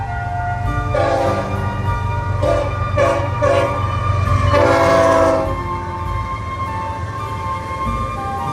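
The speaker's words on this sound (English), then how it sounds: "And for northbound trains, you can see them going at a decent speed." A train rolls past with a steady low rumble while its horn blasts in several short bursts, then the horn fades and the rumble continues.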